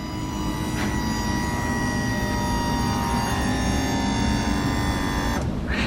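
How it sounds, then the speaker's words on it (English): A Ferrari 360's F1 transmission hydraulic pump primes on a salvage car, making a steady, even mechanical whine and hum that holds for about six seconds with nothing else over it. "That's the noise of the pump priming, getting itself ready for you to drive"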